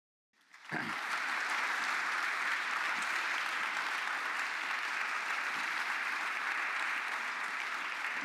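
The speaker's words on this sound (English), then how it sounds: "You've heard the big round of applause after what you have said." A large audience bursts into a big round of applause that starts abruptly and carries on as a steady, dense wash of clapping, fairly distant and without voices.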